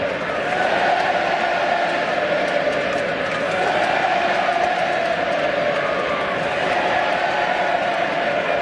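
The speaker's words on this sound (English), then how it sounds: "It's the sound of a supporter base knowing they're on their way to a grand final" A large football crowd of Sydney Swans supporters at an AFL preliminary final against Port Adelaide, a sustained distant roar of cheering and chanting filling the stadium, steady and continuous with no clear breaks.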